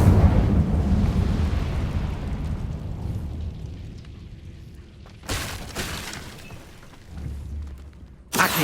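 Incendio fire spell cast in Hogwarts Legacy: a loud roaring burst of flame that fades over several seconds, followed by sharp crackling impacts and a final abrupt blast, with no talking.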